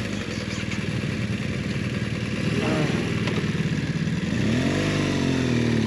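BMW GS 1200 motorcycle on a trail pulling away, its engine rumbling steadily up close then revving higher as it rides off.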